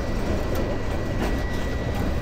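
The Mahanagar Express passenger train rolls slowly near Patiya railway station in Bangladesh, producing a loud, continuous rumbling clatter that stays even throughout, with no talking.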